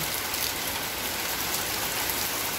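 Steady, even rain falls during a sunshower, a continuous close hiss of drops on surfaces with no voices.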